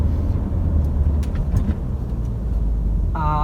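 A Ford Endeavour 3.2L 4WD SUV engine drones low and steady while driving, with road rumble and light thumps over the surface, and a brief tonal chime at the very end.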